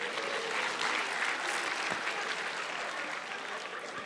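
A comedy show audience claps for a stand-up comedian and rapper, a dense, sustained wave of applause from a crowd that holds steady and tapers slightly near the end.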